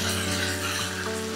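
Chopped onion hitting frying chicken in a hot pan over high heat, producing a steady loud sizzle that runs throughout.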